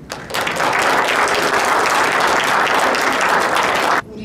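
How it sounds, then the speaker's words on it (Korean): Loud, sustained applause from a lecture audience at a literary talk, starting abruptly and holding steady for about four seconds before cutting off. "여러분 작가님께 다시 한번 뜨거운 박수 부탁드립니다."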